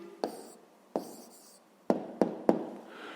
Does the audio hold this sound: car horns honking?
no